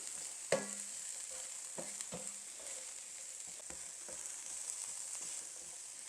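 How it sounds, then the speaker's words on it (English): Onions sweating in a hot frying pan, with a steady bright sizzle running throughout and a few sharp clicks and knocks from stirring, close by and without talking. "I'm just going to put them in this hot frying pan"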